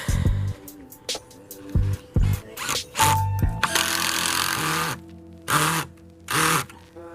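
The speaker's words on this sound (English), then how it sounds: "we're going to go ahead and drill them in" A power drill drives screws into a cabin roof during roofing work, making a series of short, close whirring bursts with one longer run in the middle and brief pauses between them.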